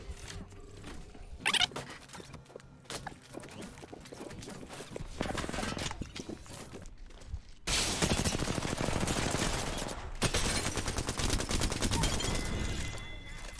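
Sniper gunfire in the video game Apex Legends, with sharp isolated shots and louder sustained bursts of firing and clatter that grow denser in the second half, mixed with some game noise and brief talk.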